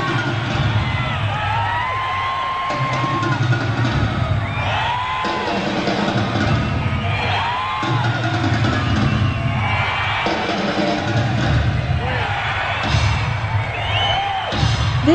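A rock concert crowd at a show cheers, whoops and yells in waves during a call-and-response section of a drum solo, loud and continuous with repeated rising shouts.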